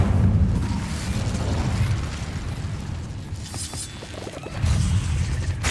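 A fire spell cast in a Harry Potter video game erupts as a loud, roaring whoosh of flame with booming bursts, sustained throughout and swelling again near the end, with no voices.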